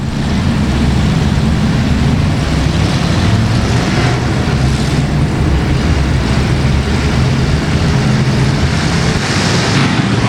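Race cars roar loudly and continuously around an oval speedway at Ark-La-Tex Speedway during a restart late in the race, with dense engine noise and no breaks.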